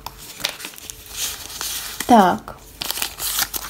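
A paper surprise packet is handled and opened with short, crisp crinkles and crackles, the loudest burst coming midway, while someone talks over it.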